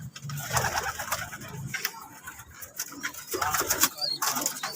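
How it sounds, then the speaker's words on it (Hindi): Flying pigeons kept in paired coops at a Hyderabad fancier's loft coo in low, soft repeated phrases, with scattered chirps and rustling in the background and faint voices nearby. "ये उड़ने वाले कबूतर है"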